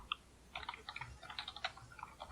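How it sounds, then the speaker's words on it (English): Typing on a computer keyboard, a quick irregular run of light close key clicks in short bursts with brief pauses, quiet and with no voices. "Someone is typing."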